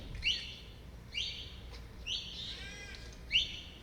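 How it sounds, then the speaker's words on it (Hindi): Birds chirp outdoors in four separate bright bursts spaced about a second apart, moderately near over a low steady background hum, with no one speaking. "जो मधुर पक्षियों की ध्वनि सुनाई दे रही है उस पर अपना ध्यान ले जाएंगे।"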